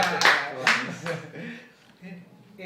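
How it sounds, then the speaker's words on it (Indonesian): A few sharp hand claps ring out close by at an after-work talk session, quick and fairly quiet, before a voice speaks over a soft background. "Tepuk tangan"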